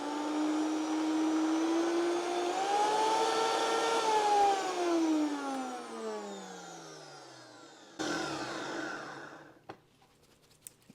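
A blender whirs through frozen pineapple and heavy cream, loud and steady. Its pitch rises and then sinks as the load shifts, and it cuts out near the end, leaving a few knocks and clatters.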